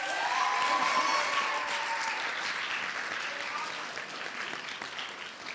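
Audience applause for student government senate candidates at a campus debate evening, a dense, steady clapping that fades slightly over several seconds with faint cheers near the start.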